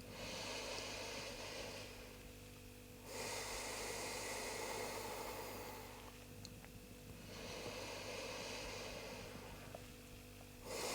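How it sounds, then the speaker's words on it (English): Slow, deep breaths drawn in and let out during an advanced vinyasa yoga class, long swelling inhales and exhales repeating in a steady cycle over a low background hiss, close and fairly soft with no talking. "Take 3 more deep breaths on your own, noticing the sounds, the sensations, the feeling of breathing,"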